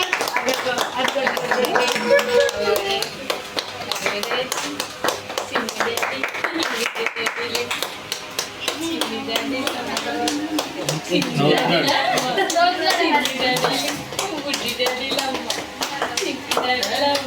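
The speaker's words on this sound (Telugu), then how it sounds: "అక్కడక్కడ అక్కడక్కడ క్లాప్ కొట్టండి" Several people clapping hands indoors in quick, uneven bursts that run the whole stretch, close and lively, with talking and chuckling mixed in.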